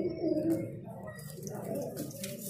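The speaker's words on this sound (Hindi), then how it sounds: "ये कबूतर है, बहुत ही बड़ी घाट का कबूतर है" A very large pigeon at a Delhi pigeon shop gives low, throaty coos near at hand, with faint background noise and a possible murmur of voices.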